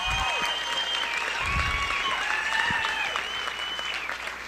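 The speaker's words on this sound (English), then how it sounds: "Give yourselves a round of applause." An audience at a Christopher Hitchens stand-up comedy set applauds the Republicans in the room, soft steady clapping laced with whistles and a few cheers, fairly distant.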